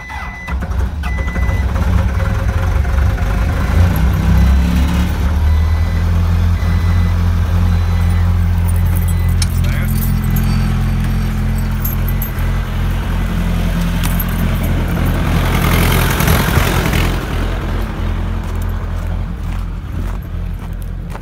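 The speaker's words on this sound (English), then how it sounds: "it's better to let a diesel engine warm up as quick as you can by putting the throttle up to 1000 RPM" Ford diesel truck engine idling after a cold start, heard from inside the cab: a steady, loud low rumble that holds throughout, with no talking.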